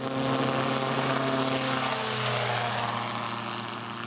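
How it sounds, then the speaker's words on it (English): An ultralight trike aircraft drones steadily in flight, its engine and propeller producing a loud, continuous buzzing hum with a slight pitch shift partway through and no talking. "Now with the trike, I can easily be in the air and experience the thrill firsthand all of the time"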